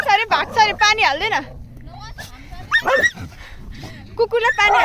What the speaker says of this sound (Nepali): दुईवटा कुकुर यहाँ जुझ्न लाग्यो